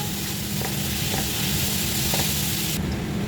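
Loud, continuous sizzling of carrots frying in a pan, close up, with a few faint scrapes of stirring.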